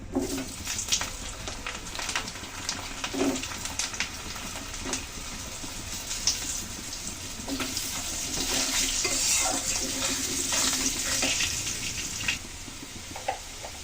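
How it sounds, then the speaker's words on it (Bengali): Cut potatoes fry in a pan with dried red chilli, cumin and bay leaf, a steady hiss of frying oil broken by repeated clinks and scrapes of a spoon stirring, close and moderately quiet with no speech. "অনেকক্ষণ ধরে কিন্তু আলু ভেজে নিলাম"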